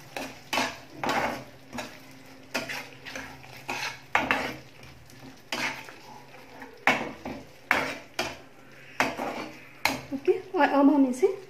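A spoon repeatedly scrapes and knocks against a pan as coriander leaves are mixed into paneer lababdar, in rhythmic close strokes with faint sizzling beneath and a brief voice near the end.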